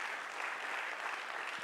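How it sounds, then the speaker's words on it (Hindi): Steady applause from an audience at a Gita leadership lecture session, a continuous wash of clapping hands at moderate distance that fills the whole moment without pause. "ताली तो बजाइए सिंह साहब के लिए"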